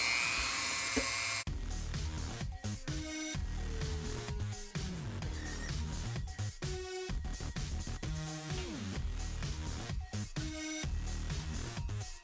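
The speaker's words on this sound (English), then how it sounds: "It actually drilled the hole instead of just making a divot." A WEN rotary tool whines steadily as it drills a hole, its high motor pitch shifting and wavering under load for about twelve seconds, with no one speaking.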